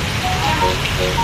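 Steady rain hisses evenly throughout, a dense wash of falling drops with no pauses, fairly close and moderately loud.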